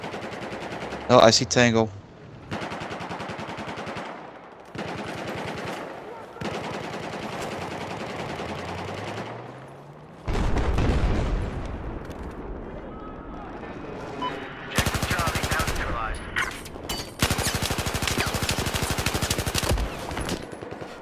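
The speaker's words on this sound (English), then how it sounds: "I'm setting up a machine gun up there." Machine gun fire in a military shooter game, with bursts of automatic gunfire and other battle noise recurring across the scene while players talk over it.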